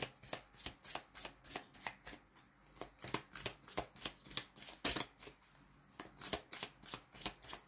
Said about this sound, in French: je remets ces deux cartes dans le paquet